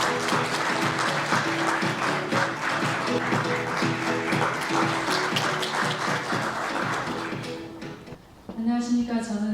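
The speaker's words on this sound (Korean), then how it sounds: "큰 박수로 환영해 주십시오." Many hands clap steadily over background music at a corporate showcase for a payment platform as a presenter is welcomed. The applause fades near the end and a voice briefly speaks.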